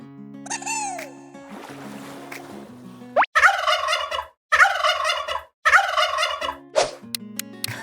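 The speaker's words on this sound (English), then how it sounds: "Yes, it's the turkey's sound." A turkey gobbles several times in quick, rattling bursts, close and prominent, following some brief unrelated noises at the start.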